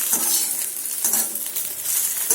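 Okra fries in a pan with very little oil, giving a steady close crackling sizzle with soft stirring scrapes throughout, no voices.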